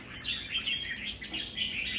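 A songbird chirps in a continuous run of high, bright twitters, close and fairly loud, with a steady faint background hiss and no talk.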